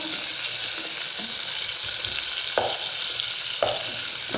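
Tomatoes frying in a pan for pudina (mint) chutney, a loud continuous sizzle with a few sharp stirring scrapes, close up and with no speech.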